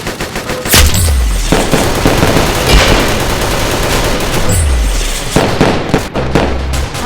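Fireworks in the Roblox shooter Arsenal go off as a dense, loud barrage of rapid crackling bursts, with low booming thumps near the start and again around the middle, sustained throughout without speech.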